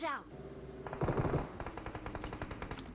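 Rapid automatic gunfire in the PUBG Mobile video game, a quick rattling burst of shots at close range with short pauses, alongside a brief voice.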